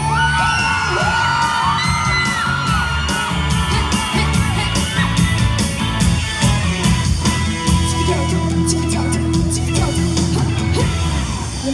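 A loud crowd whoops, yells and cheers over pounding music with bangs, the noisy excitement sustained throughout.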